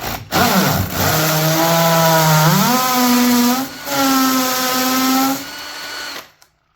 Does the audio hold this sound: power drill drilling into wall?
yes